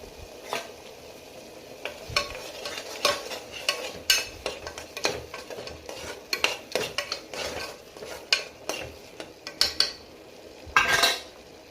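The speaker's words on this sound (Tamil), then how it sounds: "தக்காளி போட்டு வதக்கணும்." Steady clatter of a utensil stirring tomatoes and spices in a pan with a soft sizzle underneath, irregular scraping and tapping throughout, close by, no voices.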